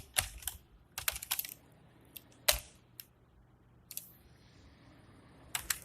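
Code is typed on a computer keyboard in scattered quick bursts of close, crisp key clicks separated by short pauses, with no talking.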